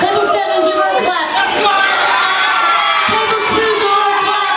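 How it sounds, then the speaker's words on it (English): A table of wedding reception guests cheers and shouts loudly, with whoops and excited voices in a dense, close crowd din, and any clapping buried under the cheering. "I want table 7 to give her a clap."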